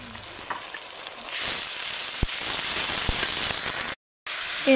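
Garlic and ginger paste frying with browned onions in a pan for a chicken curry, giving a steady close sizzle with faint crackles and occasional soft clicks, then a brief dropout.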